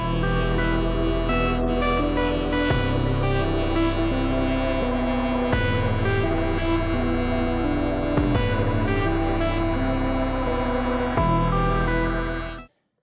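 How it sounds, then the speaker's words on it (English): Welding steel for a DIY salt shield on a 5x10 carry-on trailer, a steady loud buzzing hum with repeated abrupt shifts in tone, ending in sudden silence. "Let's get her welded up."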